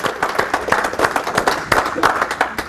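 An audience at a speakers' forum claps for a volunteer, a moderate burst of individual hand claps with a few louder sharp ones, with voices in the room mixed underneath.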